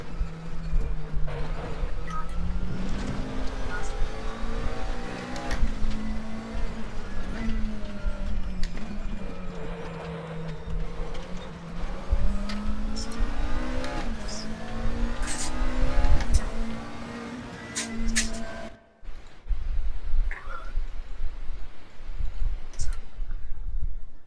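A McLaren race car's engine in the RaceRoom (R3E) sim at Bathurst, a steady droning note that rises and falls through gear changes, close and continuous before a brief drop near the end.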